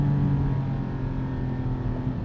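A Porsche 718 GT4 engine runs with a steady, throaty drone at a constant pitch, heard close and fairly loud with no talking over it.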